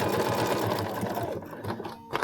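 A sewing machine stitches the seam of a fabric bowl cozy, running in a steady, close, continuous whir for about two seconds before briefly slowing and easing off near the end.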